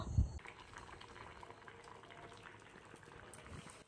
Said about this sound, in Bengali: আমি প্রথমে আলুটাকে কেটে সিদ্ধ বসিয়ে দিয়েছি